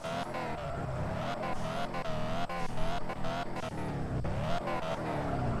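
A car driving in the video game Car For Sale Simulator, a steady engine drone with shifting revs running throughout, with faint background music.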